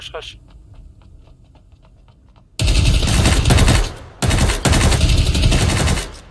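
Rapid automatic gunfire in the shooter Ring of Elysium erupts loud and close after a quiet stretch, two sustained bursts separated by a brief pause, with faint voices talking in the background.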